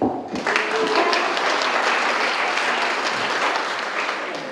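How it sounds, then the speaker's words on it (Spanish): Audience applause at a religious retreat in Costa Rica, a sustained, even roar of many hands clapping that starts abruptly and holds steady before easing slightly at the end. "Un aplauso para todos."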